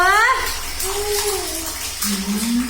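A small child, just over a year old, playing in bath water, with splashing and gushing water under the child's babbling and high voice and an adult speaking nearby.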